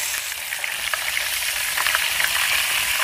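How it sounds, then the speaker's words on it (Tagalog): Fish frying in cooking oil outdoors, a steady broadband sizzle with small crackles and pops throughout, close and even in level, no voices. "Prito tayo."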